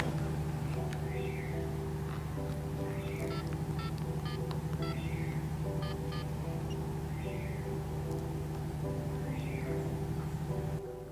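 A telephone being dialed indoors: several short, crisp keypad tones come in quick bursts over a steady low electrical hum, with no voices.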